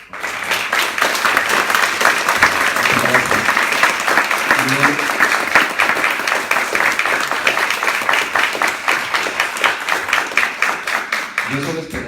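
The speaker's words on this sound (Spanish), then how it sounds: "Le damos un fuerte aplauso, por favor." A conference audience gives a long, dense round of applause, loud and steady from start to finish, with voices faintly mixed into the crowd noise.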